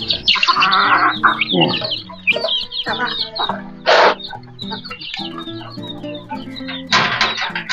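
Several chickens cluck and call nearby in a busy, overlapping chorus on a rural morning in Cuenca, Batangas, Philippines, with a few sharp louder squawks standing out and small birds chirping in the background.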